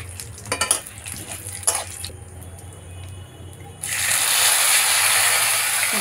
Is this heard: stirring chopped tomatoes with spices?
yes